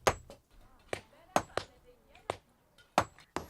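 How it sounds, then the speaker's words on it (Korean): Stones being struck by hand with a hammer at a quarry, sharp irregular knocks about every half second, close and fairly faint, with no talk. "망치질은 너무 버겁습니다."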